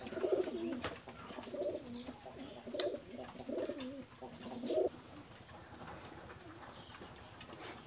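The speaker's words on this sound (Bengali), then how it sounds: "এখানে আমি এক পেয়ার কবুতর দেখাচ্ছি" Red-eyed Khulna pigeons, two single males, coo in several rolling, throaty bursts nearby, with sharper flutters and clicks between them and no talking.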